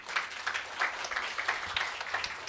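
Applause from a lecture audience at a business seminar, fairly quiet and slightly distant, a pulsing patter of clapping hands that continues through the short stretch without talk.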